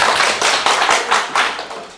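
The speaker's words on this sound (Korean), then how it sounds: "박수 한번 쳐주시고" A lecture class claps hands in a short, uneven burst, with individual slaps distinct and close, steady for about two seconds with no talking.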